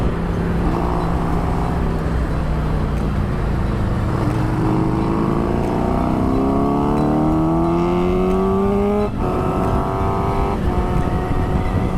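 Honda CBR600RR motorcycle riding through downtown city traffic near Los Angeles, steady close engine with rising revs across several gear changes and constant wind rush, no talking.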